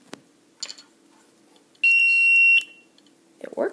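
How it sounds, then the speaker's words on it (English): A little buzzer powered by a 9-volt battery through a switch sounds one steady, piercing electronic tone lasting under a second, framed by soft clicks and handling noise. "a little buzzer here."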